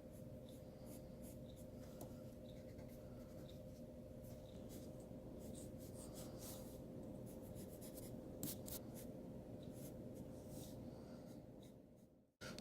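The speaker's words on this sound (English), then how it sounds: "So I'm going to draw a square and then draw another square." Pen scratching steadily across paper while drawing squares for a line-and-pattern design, a soft continuous scribbling rasp close by with short stroke accents, stopping abruptly at the end.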